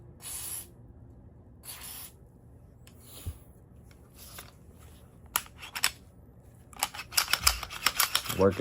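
A handgun's slide is worked back and forth after oiling, giving sparse metallic clicks and scrapes that build into a quick run of sliding clacks near the end.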